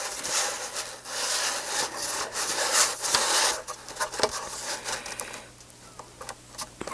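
Hand saw cutting a piece off a workpiece, with a steady back-and-forth rasp of close strokes that grow choppier and sparser toward the end, no talk over it.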